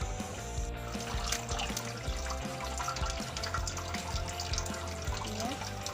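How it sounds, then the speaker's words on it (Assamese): Boiled banana flower drained over a wok, water pouring and trickling steadily at low volume with light splashing throughout. "পানীখিনি যাবৰ কাৰণে কেৰাহীৰ ওপৰত বাকি লৈছোঁ।"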